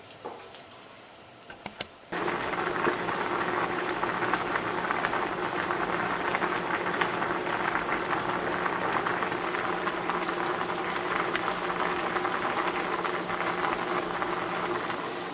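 Corn simmering in baking soda water on a stovetop gives a steady, close bubbling and ticking hiss that starts abruptly after a quiet moment and continues evenly to the end, with no voices.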